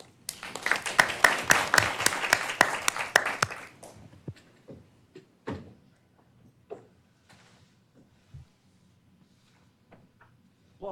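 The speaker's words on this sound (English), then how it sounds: "Applause at the beginning is good." Audience applause welcoming a speaker at a closing conference presentation, a dense burst of many hands clapping for about three seconds that quickly fades, followed by scattered taps and soft room noises.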